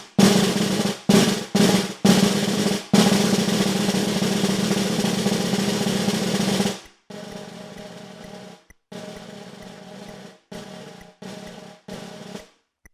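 Snare drum closed rolls played as an étude exercise, a dense buzzing press-roll texture in several short bursts and one long sustained roll, followed by softer, quieter roll passages with brief gaps.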